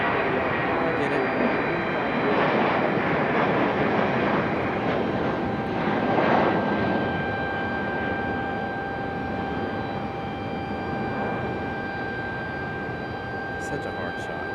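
A military fighter jet, an F-18 or F-16, passing an airport with a loud, broad roar and a high whine that slowly fade as it moves away, with a faint voice now and then.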